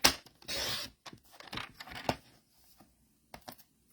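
Cardstock paper is trimmed, heard as a short scraping slide followed by a series of close, sharp clicks and cuts in an uneven rhythm, then a few isolated taps after a pause.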